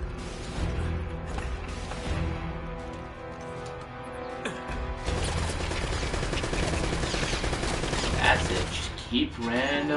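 Video game gunfire in Uncharted, rapid bursts of shots crackling in clusters, loud and near, with a voice talking in between.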